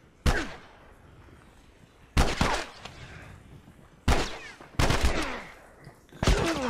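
Several loud, sharp gunshots from The Last of Us ring out one at a time at uneven intervals, each with a short echoing tail over a quiet background.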